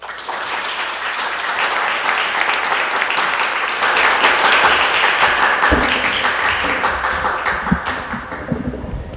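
A live audience at a radio show gives sustained, loud, dense clapping after a band's performance, a close wash of many hands that swells slightly and then thins toward the end.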